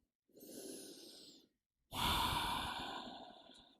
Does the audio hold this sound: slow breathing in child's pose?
yes